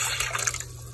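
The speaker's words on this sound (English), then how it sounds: "Okay, we're gonna add our beef stock." Beef stock pours into a cooking pot, a brief splashing, gurgling stream of liquid heard close up for about a second.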